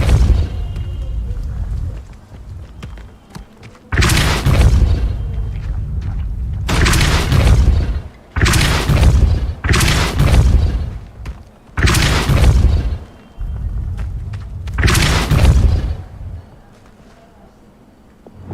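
Spell casts in the video game Hogwarts Legacy, including the Depulso spell, land as about six heavy booming bursts at irregular intervals over a steady game backdrop.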